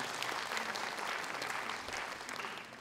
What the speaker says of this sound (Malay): kita wajar memberikan tepukan yang gemuruh kepada hadirin hadirat yang ada di depan kita ini